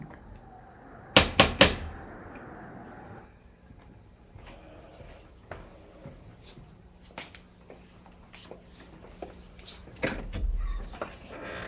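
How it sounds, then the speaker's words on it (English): Knocking on a door at the Collinwood mansion: a quick burst of three sharp, loud raps near the start, followed by quieter room sounds and a later thud. "Well, go ahead and knock."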